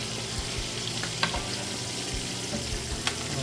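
Steak frying in a pan with butter and aromatics: a steady, close sizzle with a few soft clinks and scrapes as the pan is tilted for basting, with no talking.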